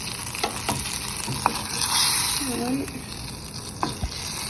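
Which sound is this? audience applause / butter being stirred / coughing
butter being stirred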